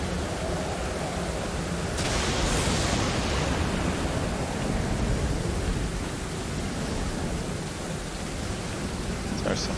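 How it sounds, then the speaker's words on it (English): Ocean waves in the survival game Stranded Deep roll onto a beach as a constant hissing surf with a swell of breaking water early on, steady and fairly loud throughout. "There's some pretty good waves."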